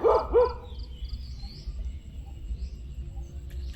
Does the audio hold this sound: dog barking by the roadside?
yes